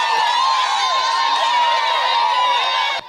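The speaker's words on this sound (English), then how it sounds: "supporters of independent candidate Harriet Namubiru began cheering after they became the only voters remaining in the queue" Supporters of an independent candidate cheer and shout at a polling station queue, a loud, sustained crowd din with whoops and high voices that cuts off sharply at the end.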